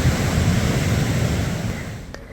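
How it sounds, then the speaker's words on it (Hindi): Ocean waves wash onto the Mexican coast in a continuous, loud rush of surf with some wind noise, close to the shore and steady throughout. "बस लहरों को सुनते रहो"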